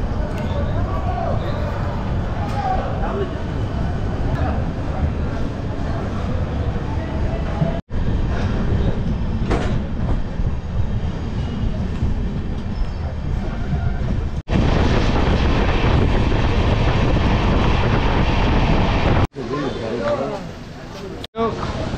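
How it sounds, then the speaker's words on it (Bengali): A train pulling out of Bardhaman station toward Bolpur Shantiniketan gives a steady, heavy rumble and rattle of the carriages over the rails, continuous throughout with muffled voices underneath. "8:57 বর্ধমান থেকে ছেড়ে দিল আমাদের ট্রেন।"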